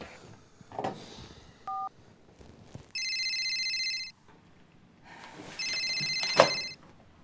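A telephone rings in two long, bright electronic bursts separated by a pause, preceded by a short tone and a few clicks and knocks, with no talking over it.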